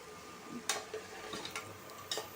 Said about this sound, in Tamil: கொண்டைக்கடலை சேர்த்துட்டு நல்லா கிளறி விட்டுடுங்க